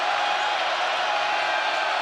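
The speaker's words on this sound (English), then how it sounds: "Listen to this crowd." Dense, steady roar of a college basketball crowd in an arena during a Duke versus California game, loud and continuous with no breaks.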